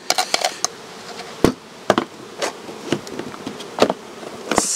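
Honeybees buzz near a hive setup used for varroa mite testing, a steady insect drone broken by sharp clicks and knocks of handled equipment, close and fairly loud with no talking.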